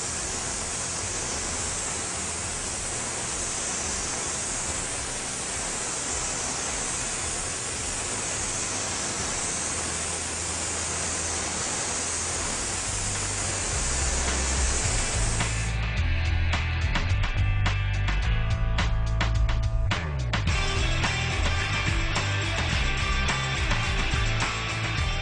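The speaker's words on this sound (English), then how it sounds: "I'm going to spray the silver through the mesh here" Airbrush spraying silver paint through a mesh stencil for a carbon fiber effect gives a steady, close hiss for about fifteen seconds, then lower rumbling handling noise takes over.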